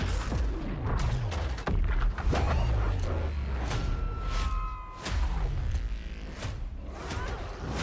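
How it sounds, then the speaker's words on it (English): Explosions from the Split Fiction video game trailer land in a rapid series of deep booms and sharp blasts, mixed with whooshes and rumbling impacts. "A lot of explosions."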